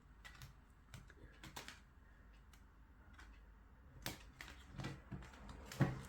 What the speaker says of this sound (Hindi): कार्ड्स को शफल कर लेते हैं ताकि सबकी एनर्जीज पिक हो सके